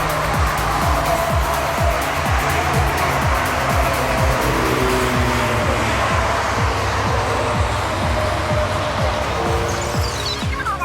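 Cars driving on a wet race track at a Toyota AE86, GT86, GR86 and Subaru BRZ festival at Fuji: a loud, steady engine drone with repeated passing rumbles and a hiss of spray, heard close.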